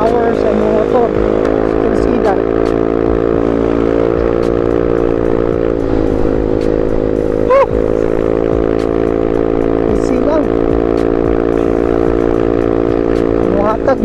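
A Mio i 125 motorcycle fitted with a 135cc fuel injector runs at a steady, loud idle close by. The engine holds an even drone throughout, with a few faint clicks on top.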